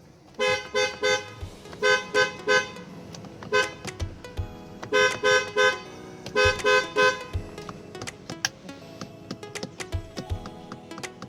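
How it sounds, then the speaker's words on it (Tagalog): A Ford Everest's horn, which had been stuck sounding from a faulty contact, honks in short bursts, a few quick toots repeated in clusters with clicks and pauses between them, close and fairly loud. "Ayan, busina natin."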